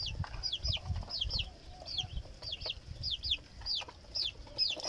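Hens cluck in short repeated bursts, fairly close, over low thuds and rustling noises.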